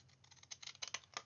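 Faint, close crunching snips as decorative scissors cut through paper in a quick run of small cuts.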